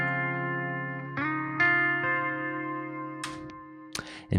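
Clean electric guitar from an amp-sim plugin set to a clean tone, with built-in delay and reverb: sustained chords ring out and change several times, trailing echoes, with sharp pick attacks near the end.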